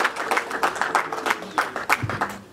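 A crowd claps at a wedding celebration, giving a short burst of quick rhythmic applause that is close and fairly loud, with no talk over it.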